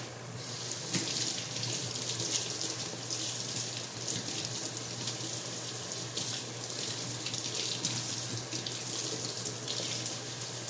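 Tap water running steadily into a kitchen sink while sweet potato leaves are rinsed, a continuous close hiss and splash with small fluctuations as the leaves are moved under the stream.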